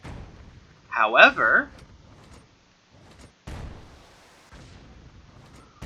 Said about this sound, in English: this is obviously not a tank, this is a howitzer. Because the angle of attack, it is definitely artillery.